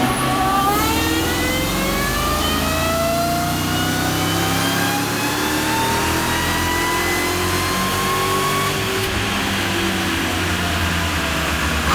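A loud supercharger whine from a Mercedes E55 AMG wagon on a dyno, revving steadily, pitch sweeping upward in long rising tones over a continuous low rumble, with no voices.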